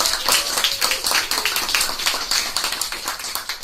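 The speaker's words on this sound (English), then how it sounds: "Please round of applause." A room of members at a Toastmasters-style speaking club in Moscow gives a round of applause, a dense, lively patter of many hands clapping together for several seconds.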